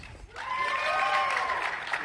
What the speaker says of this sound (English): I'm trying to work out if they're applauding for your answer